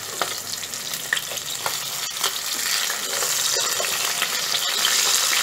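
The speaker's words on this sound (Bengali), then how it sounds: "মাছের 1 পিঠ ভাজা হয়ে গেলে অপর পিঠের জন্য উল্টে দিচ্ছি।" Fish frying in mustard oil in a wok, turned over to cook the other side: a continuous crackling sizzle with scattered scraping and tapping of a spatula, growing slightly louder toward the end.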